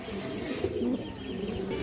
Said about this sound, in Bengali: এই দেখেন একবার পুরনো লাইনের কবুতর